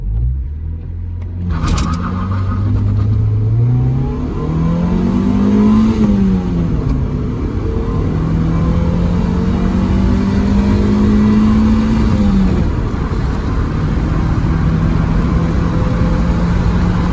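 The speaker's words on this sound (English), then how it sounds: "Here's another 0 to 100, launching at this time with a moderate launch" A 25-year-old Honda Civic EK launches hard from a standstill toward 100 km/h. The engine revs climb steadily through several gear changes, loud and close, with no one talking.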